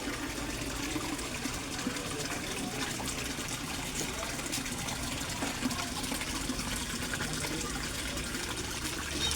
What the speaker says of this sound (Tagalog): Yan ang submersible pump ko guys. Sa sobrang lakas niya, ang ingay-ingay niya.